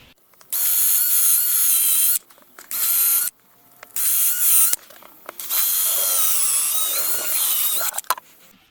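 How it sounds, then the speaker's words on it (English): A power drill whines in several bursts of varying length, close up, drilling screw holes in a wooden wedding wishing well, with short pauses between runs and a few clicks. "we just drill down through all four of those."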